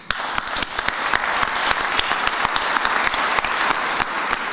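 Dense, continuous audience applause at a speaking event, many hands clapping steadily and loudly with sharp individual claps standing out, no voices above it.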